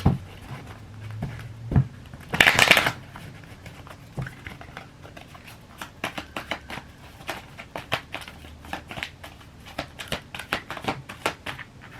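Soft, rapid papery riffling and tapping of cards being shuffled, in irregular bursts, close by and fairly quiet.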